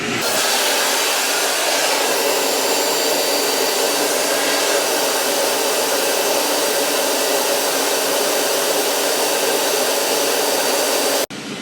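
A dust extractor roars steadily through a Dust Deputy cyclone separator, a loud, constant rushing whoosh of airflow lasting the whole stretch with no voices.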